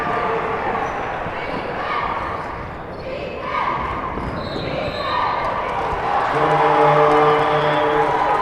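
A crowd murmurs and cheers in a gym during a girls basketball state semifinal, with ball bounces and squeaks, and a commentator talks over the steady, rising noise.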